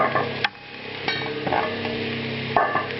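Mushrooms go into a pan of celery cooking on the stovetop for chicken stuffing: a few sharp knocks and clatters of utensil against pan over a constant close sizzle, with no voices.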